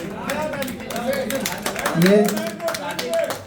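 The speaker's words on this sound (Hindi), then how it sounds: "भाई जोरदार ताली होनी चाहिए यार।" A group on a Kanpur rooftop at a kite tournament claps in quick rhythmic bursts, close by and partly masked by several people talking loudly at once.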